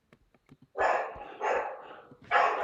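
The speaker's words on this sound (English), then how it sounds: "Can you hear the dog?" A dog barks three times in loud, close bursts, each one sustained and harsh, with a few faint clicks and taps just before the first bark.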